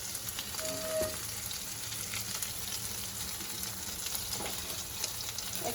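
Mushrooms frying in a pan for a steak sauce give a soft, steady sizzle with faint crackles and a brief stirring scrape, with no talking.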